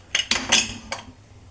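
A metal spoon clinks four quick times against a steel vessel while cooked dal is moved into another pot, the sharp taps close and clear with no talk.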